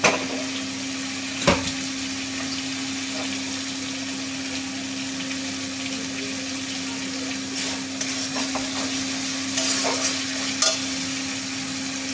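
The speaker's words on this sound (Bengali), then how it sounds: "আলুগুলো আমি মশলার উপরে দিয়ে দিলাম।" Boiled potatoes dropped onto cooking spices in a pan, heard as a continuous sizzle with a low steady hum beneath, one sharp knock early on and a few soft scrapes later, with nobody speaking.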